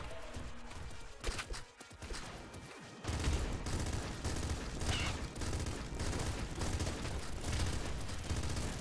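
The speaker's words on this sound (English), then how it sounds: "That missile that you fired was new." Weapon and missile fire in the video game Nuclear Throne, a dense barrage of crackling blasts that grows louder and busier after a few seconds, with game music and effects throughout.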